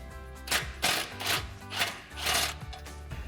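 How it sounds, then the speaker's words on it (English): A ratchet and 16mm socket loosen a bolt on a Jeep Gladiator JT during a fog light install, with four or five rasping strokes in an even rhythm, close and clear, over a low hum. "So we'll take that 16mm socket to remove our first bolt."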